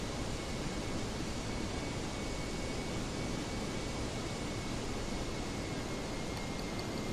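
Steady jet engine thrust from a DC-8-73F freighter in the flight simulator FSX, a broad continuous roar with a faint high whine, loud and unchanging with no talk.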